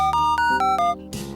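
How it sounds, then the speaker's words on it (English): Dial tone emulator in the video game Burggeist plays a quick run of pure electronic touch-tones, several short beeps in succession at shifting pitches, clean and loud, ending with a brief noisy burst. "dial tone emulator."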